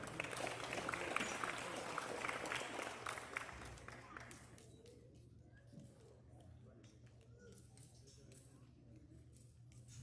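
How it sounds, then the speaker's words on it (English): Applause from an audience at a youth livestock show as the champion is named, a dense wash of clapping for about four seconds that then thins to scattered claps over a quieter room murmur. "Give him a round of applause."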